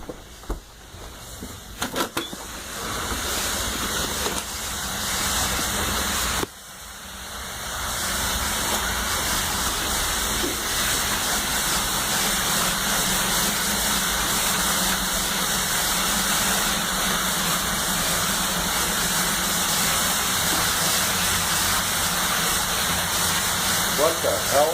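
Water splashes and gushes from a flooded heater as a loud, continuous rushing roar, briefly interrupted near the start, with voices faintly under it.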